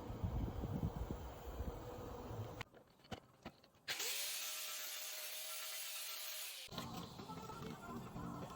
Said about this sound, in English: Looks like it's time for my favorite tool, the grinder.